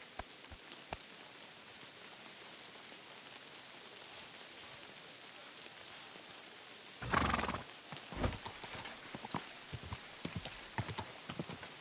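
Horse hooves clop in the medieval role-playing game Kingdom Come Deliverance 2, a few faint scattered footfalls after a long quiet stretch of rain-like ambience, with a snort or whinny partway through.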